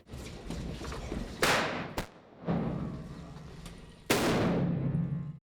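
A big gun loaded with heavy charges fires like a cannon during a basement shootout film stunt, with several sharp loud blasts separated by rumbling decays and reverberant tails.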